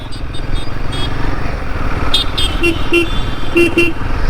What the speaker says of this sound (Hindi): horn is not that good, decent सा है, बट ओके, ज़्यादा नॉइजी नहीं है